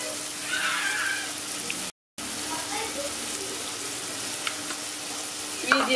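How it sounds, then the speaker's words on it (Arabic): Onions fry in a pan with a close, continuous crackling sizzle that holds steady throughout, broken only by a very short gap. "وغادي نخليهم يتقلاو واحد شويه"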